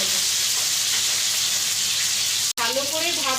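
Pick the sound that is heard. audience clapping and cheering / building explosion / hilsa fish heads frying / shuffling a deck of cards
hilsa fish heads frying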